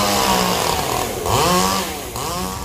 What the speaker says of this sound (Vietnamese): Các bạn đang chuẩn bị máy móc để cưa